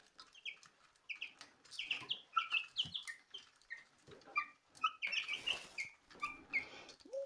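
Three-week-old chicks peck rapidly at food, a busy, quiet patter of taps mixed with frequent high peeping chirps, close by and continuous.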